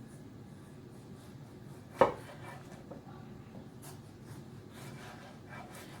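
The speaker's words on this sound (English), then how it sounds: "So we're going to slice them about 1/4 inch thick" A knife slices through tomatoes on a cutting board: one sharp cut lands clearly, followed by softer, quieter slicing sounds close by, with no talking.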